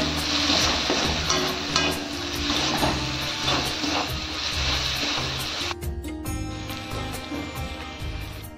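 Chicken curry masala with coriander powder frying and being stirred in a pan, a steady close sizzle with scraping stir strokes throughout, the frying hiss easing slightly near the end.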